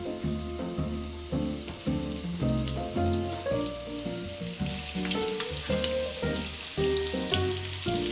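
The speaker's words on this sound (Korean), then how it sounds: "팬에 기름을 두르고 만들어둔 감자볼을 구워요." Mashed potato balls with carrot and breadcrumb coating fry in an oiled pan, a dense, continuous close sizzle and crackle of spitting oil with no voices.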